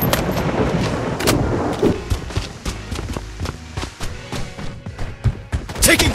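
Rapid gunfire in the shooter video game Project BloodStrike, with bursts of sharp shots and thuds packed over a busy combat mix, loud and close throughout the short stretch.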